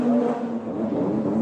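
1998 Le Mans Nissan race car coming into the pits, a loud, steady engine drone with a faint whir throughout, sounding fairly close and alone.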